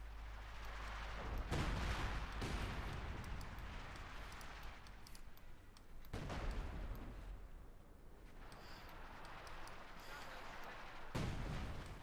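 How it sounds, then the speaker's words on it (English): Machine gun bunkers fire during a Company of Heroes 2 battle, with rapid bursts mixed with heavy artillery-like booms and explosions, dense and sustained at a moderate distance. "This fire, I think, highlights just how useful machine gun bunkers can be if the opponent is not ready for it at all."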